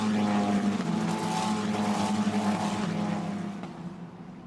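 A Formula Renault Eurocup race car at Spa-Francorchamps in 2019 screams past nearby, its high engine note holding loud and steady before fading away into the distance at the end.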